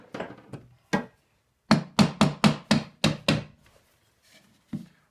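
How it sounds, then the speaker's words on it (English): A heavy object taps a wood-turning chuck on a lathe to loosen it: sharp, hollow wooden knocks, first a few spaced hits then a quick run of about seven close, loud strikes, ending with one fainter knock. "So you pick up a heavy and basically tap it."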